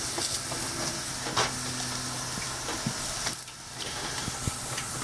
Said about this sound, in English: so now our loin are on the grill